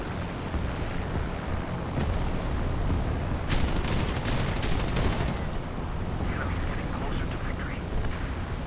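Gunfire in the video game War Thunder: dense bursts of rapid shots over a constant rumbling din, loudest in the middle, with bursts of talking around it.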